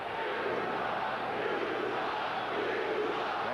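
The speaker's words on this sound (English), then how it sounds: "The crowd reacted to the last, what they felt was a non-call." Basketball arena crowd reacting to a non-call during an NBA Finals game between the Bulls and Sonics, a sustained loud roar of boos and shouts from a large audience, steady throughout.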